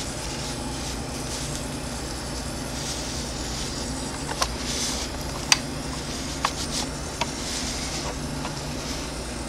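A small motor hums steadily and mechanically in a motorized Gorkanaut miniature model as its gun spins, with a few faint clicks and ticks over a continuous whirring drone.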